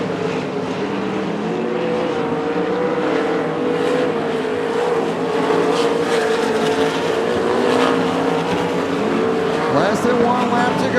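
Sprint cars roar around a dirt oval at Coos Bay Speedway during an Interstate Sprint Car Series heat race, engines droning and rising and falling as they pass in a continuous blend at mid distance.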